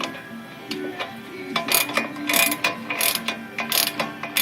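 A hand ratchet clicks in quick uneven bursts while tightening bolts on a pickup truck's front hub assembly, close and fairly loud with metallic ticking strokes.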